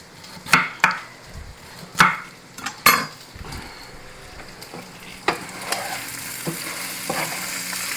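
Beef for a slow-cooker stew browns in a pan with a steady sizzle under sharp clacks and scrapes of a utensil stirring, loud and close, with no talking.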